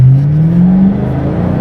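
Ford Mustang GT engine pulling on the road, a loud steady low drone with a rising pitch through the first part, then holding a strong even roar.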